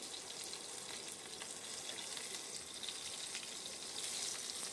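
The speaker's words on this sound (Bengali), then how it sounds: "পাঁচ ফোড়ন আর শুকনো লঙ্কাটা ভাজা হয়ে গেলে তারপরে আমি কাঁচা লঙ্কাটা চিড়ে চিড়ে দিয়ে দিলাম" Panch phoron and dry red chillies frying in oil for a spinach dish, with slit green chillies added: a faint, steady hiss and crackle of sizzling throughout, no voices.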